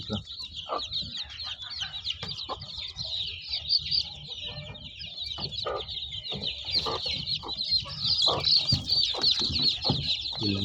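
Busy clucking from many desi village hens, with scattered louder squawks and cackles over a constant high chirping from chicks.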